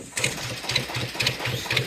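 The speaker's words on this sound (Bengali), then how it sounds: "ট্রলারটি স্টার্ট দিয়ে আমরা সামনের জালের দিকে যাব" A fishing trawler's engine on the Bay of Bengal, heard as a steady low mechanical chug with regular pulsing beats and some higher clatter, fairly close and running alone without talk.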